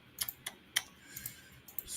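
Quiet, close typing on a computer keyboard during live trading analysis, a handful of sharp irregular key clicks spread over two seconds.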